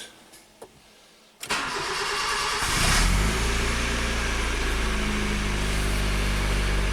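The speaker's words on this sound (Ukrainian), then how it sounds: "Ну Послухайте, як двигун працює, просто пісня" Honda Civic sixth generation car engine under repair cranks briefly, catches, and settles into a steady loud idle, recorded close up with no talking.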